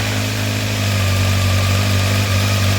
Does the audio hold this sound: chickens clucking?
no